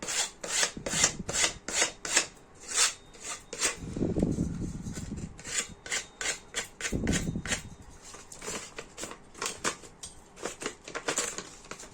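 A spatula trims excess material from the edge of a painting during finishing, giving rhythmic rasping scrapes in quick repeated strokes, close and fairly quiet, with a couple of longer rubbing passes.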